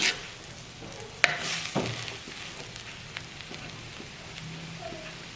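Shark curry simmering in a pan on a low flame, with a faint, steady bubbling sizzle, a couple of sharp clinks from a lid or spoon near the start, and scattered small pops.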